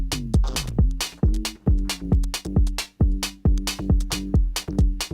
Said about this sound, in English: But that's the sound of the kick.